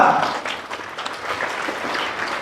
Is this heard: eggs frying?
no